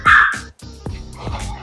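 A lilac tan dog being rehomed barks loudly and close by: a sharp first bark, a brief silence, then a few shorter yips and barks.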